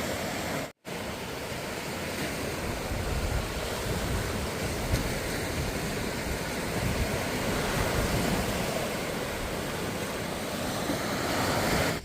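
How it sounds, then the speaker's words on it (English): Ocean waves wash continuously onto a beach in front of an oceanfront resort, a steady broad surf roar with wind buffeting the microphone. "look at this beautiful beach in front of Unico 2087"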